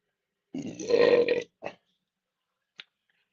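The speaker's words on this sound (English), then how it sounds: "Ooh, got a lot of blood orange in that burp." A loud, close burp after drinking blood orange beer, one long guttural belch followed by a short second burst and a tiny final catch, then silence.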